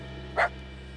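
A single short, sharp cartoon dog bark pops out over a quiet background hum, close and clear.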